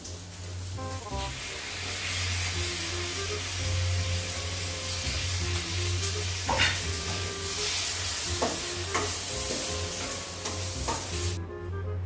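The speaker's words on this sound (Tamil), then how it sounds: "நம்ம அரைச்சி வச்சிருக்கோம்ல இந்த தக்காளியை அப்படியே ஊற்றிடுவோம்" Ground tomato paste is poured into a hot pan of mutton fry and sizzles steadily, with a constant frying hiss, occasional stirring scrapes and a low hum throughout, fairly close and without talk.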